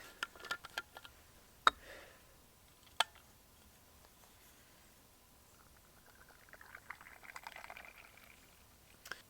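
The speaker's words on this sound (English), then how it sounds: "let us pour up a coffee" French roast coffee, extra dark, is poured from a thermos outdoors during a motorcycle trip at Svartedalen, faint clicks and taps of the lid giving way to a soft, rising trickle of liquid.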